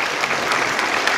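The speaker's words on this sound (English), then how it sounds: "Why are you clapping?" A convention crowd at a celebrity panel breaks into brief, dense clapping, a steady wash of many hands with no talk over it.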